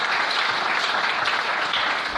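Congregation applauding during a church service, a dense, steady wash of clapping from many hands that fills the whole clip without a break.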